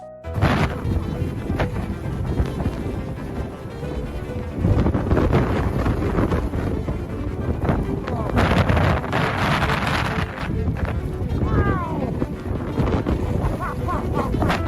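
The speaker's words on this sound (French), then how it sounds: "Les vents sont si violents qu'ils obscurcissent littéralement tout ce qui les entoure." Strong snowstorm wind roars and buffets continuously, with gusty rumbling and occasional thuds, loud and close with no let-up.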